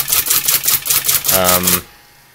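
Keys mashed on an IBM Electronic Typewriter 85: a loud, close run of rapid mechanical clacks in a steady rhythm, ending in a short whirring buzz of the carriage before it falls quiet.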